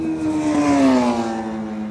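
A superbike screams past at high speed on a race track, its high-revving engine tone sliding downward in pitch as it passes close by, loud and alone.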